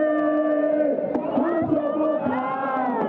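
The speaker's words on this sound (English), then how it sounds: "An enthusiastic group of supporters met to cheer Kwaku Ricketts-Hagan as he launched his camp" Supporters cheer at a political campaign launch in the Cape Coast area, a dense crowd of raised voices shouting and cheering steadily and loudly throughout.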